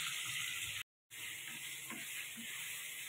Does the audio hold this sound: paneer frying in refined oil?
yes